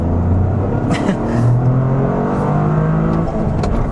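A 2023 Toyota GR Corolla engine pulls hard with a rising, throaty intake roar, loud and close, as the manual all-wheel-drive hatchback accelerates.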